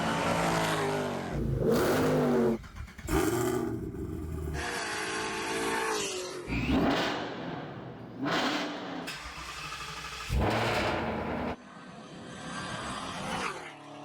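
A supercharged 2024 Mustang revs on a dyno in repeated loud pulls, the engine note sweeping up and dropping off between bursts, close and forceful, with no talk over it.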